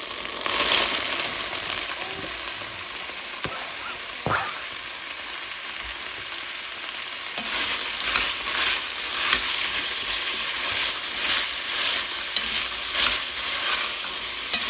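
Carrots, onions and celery sauté in a pot for beef barley stew, with a steady sizzle throughout and a spoon scraping and stirring at irregular moments. No one speaks.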